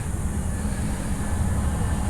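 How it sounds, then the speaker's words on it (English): A train passes somewhere below the viewpoint near Yuma, Arizona, giving a steady, unbroken low rumble with a faint rail hiss. It sounds fairly close and loud, with no talking over it. "Aha, we have a train somewhere."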